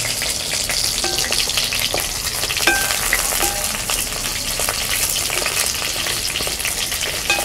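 Eggplant sautés in oil for a Tamil ennai kathirikai kuzhambu, giving a loud, continuous sizzle throughout. Scattered scraping clicks from stirring come through close by.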